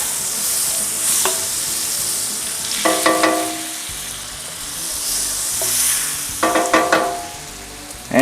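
Half a stick of butter and avocado oil melt in a pot for keto jambalaya. A steady, loud sizzle and hiss fills the clip, broken by short bursts of utensil scraping and stirring against the pot.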